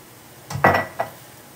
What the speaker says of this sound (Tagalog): naghuhugas ako ng pinggan